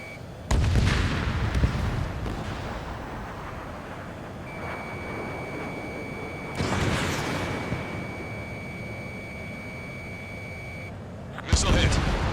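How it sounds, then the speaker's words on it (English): Missile launch and impact in the Ace Combat 7 flight combat game, with a sharp blast, a long steady warning tone, a second burst and a final loud hit, over continuous jet rumble. "missile launched"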